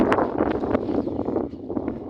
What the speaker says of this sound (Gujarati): જબરજસ્ત પવન પૂંખાય